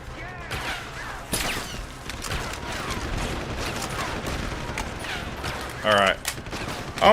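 Dense, rapid gunfire in the video game Deus Ex: Human Revolution, with sustained bursts of shots over several seconds mixed with other game sounds and a voice at times.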